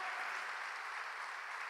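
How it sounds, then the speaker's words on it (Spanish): A church congregation claps steadily for a couple of seconds, a dense and fairly distant patter that sounds somewhat muffled, with no talking on top. "Dale un fuerte aplauso a Dios nuevamente."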